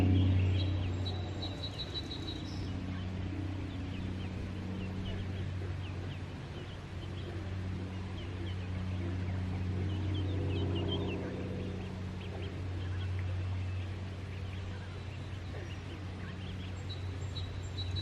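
A flock of ducks quacks and chatters continuously at a rural property, a dense outdoor babble of calls over a steady low rumble, with no talking.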